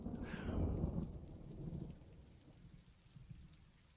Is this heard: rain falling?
yes